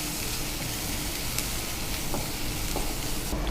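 Onions fry in a pan for oggarane dosa, a steady, close sizzle and crackle throughout with faint stirring touches and no voices.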